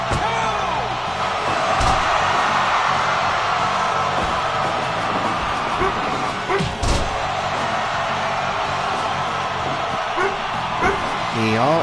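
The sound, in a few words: dog barking to go out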